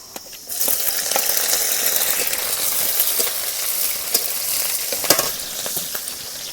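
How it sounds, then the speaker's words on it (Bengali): Chopped garlic and chili hitting hot white oil in a pan: a loud, steady hiss of frying starts abruptly and carries on, broken by occasional stirring scrapes and crackles, close by with no talk. "তেলের মধ্যে রসুন কুচি দিয়ে দেব। রসুন কুচির মধ্যে লঙ্কা কুচি দিয়ে দেব।"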